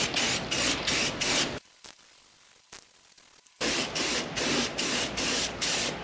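Parts of a 1982 Honda Goldwing cafe racer are being spray painted, with close, loud aerosol hissing bursts on either side of a two-second pause, the nozzle pulsing in quick rhythmic spurts.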